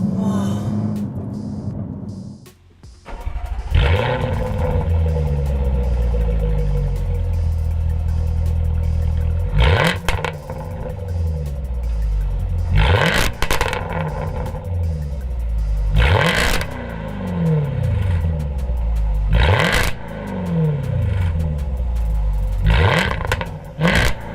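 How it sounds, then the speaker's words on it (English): A 2018 Jaguar F-Type SVR's exhaust roars loudly through a series of sharp revs, each burst rising and falling back to a deep burbling idle, repeated about five times with no talking. "the most enjoyable thing about this car is the exhaust sound"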